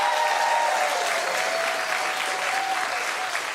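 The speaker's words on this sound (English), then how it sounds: "like the audience clapping there" Studio audience clapping on a daytime talk show, a loud, dense, continuous round of applause that holds steady and then cuts off abruptly at the end.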